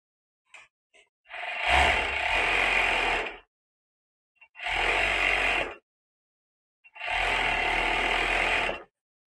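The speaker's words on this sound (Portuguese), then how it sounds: "Agora vou costurar o capuz." Sewing machine stitching the hood of a kangaroo-style fleece sweatshirt, three loud close bursts of rapid mechanical whirring separated by short silences, with faint clicks before the first run.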